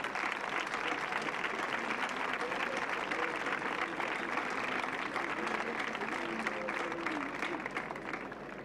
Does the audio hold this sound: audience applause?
yes